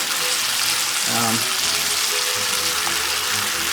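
Chicken biryani ingredients sautéing in a pan with a steady, close sizzle and light stirring throughout, a few faint clinks mixed in.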